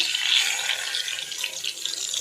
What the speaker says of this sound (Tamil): நான் வந்து கொஞ்சமாக தண்ணி ஊற்றி